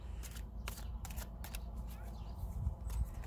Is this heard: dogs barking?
no